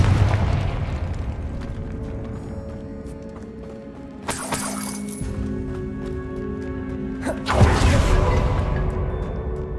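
Confringo fire spell blasting in the Hogwarts Legacy game, heard as two loud bursts, one near the four-second mark and a bigger one near the end, over a low rumbling game ambience.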